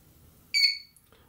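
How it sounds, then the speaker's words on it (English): A single short electronic beep from a camera gimbal during calibration, high-pitched and clear, sounding once in a quiet room. "I'm waiting to hear a beep."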